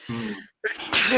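A single loud sneeze bursts out near the mic, following a brief stretch of muffled voice, with a sharp breathy spray at the end.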